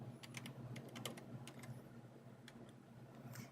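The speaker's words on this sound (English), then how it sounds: "I'm just clicking on the wrong keys." Computer keyboard being typed on, a quiet run of light, irregular key clicks at close range over a faint steady hum, with no voices.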